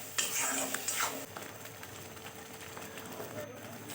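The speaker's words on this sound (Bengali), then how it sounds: "এবার এটা ভালোভাবে নেড়ে নেড়ে মশলাটা কষে নিতে হবে" A spoon stirs spice paste frying with salt and turmeric in a pan: a few scraping clinks early on, then a soft steady sizzle, with a voice speaking over it.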